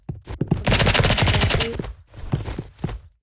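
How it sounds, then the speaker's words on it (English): Rapid automatic rifle fire in the Roblox game Rivals rattles off in a dense burst of close shots, then a few scattered single shots follow, with no talk. "Guy's using a rifle."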